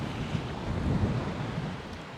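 Wind at Coney Island beach on a chilly day, a steady rushing roar buffeting the microphone with surf-like wash, continuous and fairly loud, with no voices.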